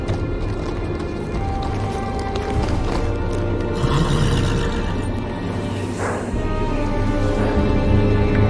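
A horse moves with clip-clopping hooves at the Wall, seat of the Night's Watch, in a Game of Thrones game episode; steady hoofbeats sit under a busy, continuous backdrop with a possible faint whinny, and no clear talking.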